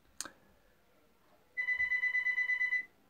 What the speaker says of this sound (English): I'm using a friend's office and his phone's ringing right now